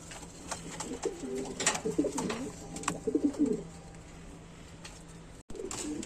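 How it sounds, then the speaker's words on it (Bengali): Large pigeons in a pen cooing close by, with a run of soft, throaty, rolling coos for a few seconds that then stops. Fainter rustling and clicks sit in the background. "দেখতেই পাচ্ছেন কবুতর দুইটা অনেক বড় এবং খুবই ভালো কবুতর"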